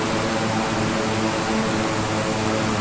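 Rockwell Bronco OV10A propeller aircraft on landing approach to Vancouver International in Microsoft Flight Simulator 2020, a steady loud droning engine and prop hum with broad airy noise and no talking.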